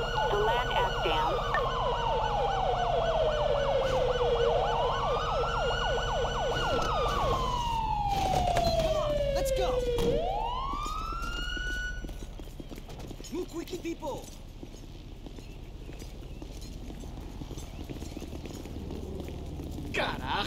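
Ambulance siren in Grand Theft Auto 5 with a police mod, a loud wailing siren sweeping up and down twice, then fading into quieter background noise with talk.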